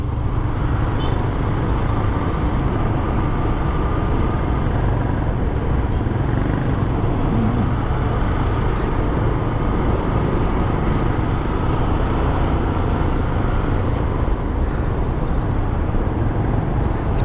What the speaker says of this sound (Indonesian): Seperti biasa di sini macet.